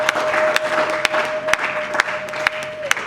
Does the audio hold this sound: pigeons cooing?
no